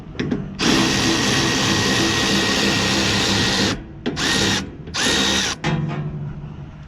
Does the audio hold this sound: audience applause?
no